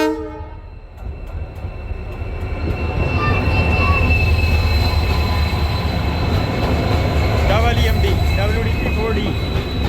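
Intercity train pulling in at Hindumalkot railway station in India: a loud, close rumble of rail wagons that builds and holds, with sustained horn-like tones and squealing wheel tones over the steady rolling clatter.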